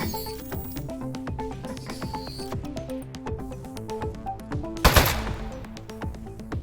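Shooting in the Aperture Desk Job video game comes as rapid bursts of sharp, clicky gunfire over a busy musical game soundtrack. One louder blast lands near the end, and there is no talking.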